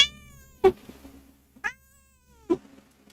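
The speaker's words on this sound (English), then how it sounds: "We got a noisy cat." Three separate cat meows, close and fairly loud, spaced about a second apart with quiet in between; no one talks.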